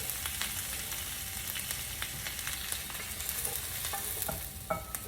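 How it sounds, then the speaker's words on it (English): Stir-fried cabbage being shifted around a hot pan, continuous sizzling with scattered scraping and clattering stirs, a sharper knock near the end, and no voices. "I like my cabbage stir fry to have bite. So I'm going to start transferring this cabbage over."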